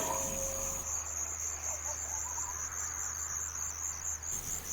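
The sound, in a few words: crickets chirping at night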